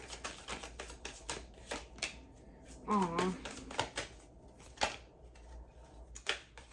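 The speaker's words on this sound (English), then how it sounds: "Haven't worked with this deck for a while. It's not easy to shuffle." Rapid papery clicks and riffles of cards being shuffled, with a brief voice exclaiming partway through.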